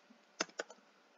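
A few quick keystrokes on a computer keyboard in a quiet room, two distinct taps followed by softer clicks, close and faint.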